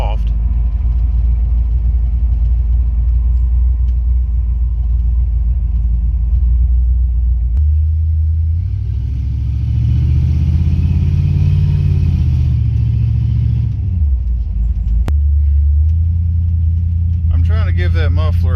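A Cadillac driving with an aftermarket muffler and turn-down tips, a loud low exhaust drone that steadies, swells as the car accelerates and shifts, then settles again.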